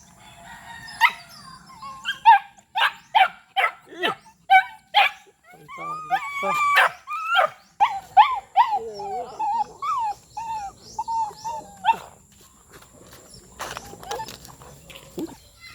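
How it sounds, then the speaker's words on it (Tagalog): A small, undersized dog barks in a quick series of sharp, close yips, then calls out in higher whining tones; people talk in Tagalog and a rooster is heard faintly. "Ito ang makulit na aso"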